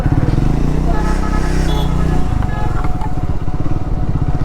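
A Triumph Scrambler 400X motorcycle rides on a road near Lonavala, its engine a loud, steady thumping drone close by, with a slight shift in pitch partway through.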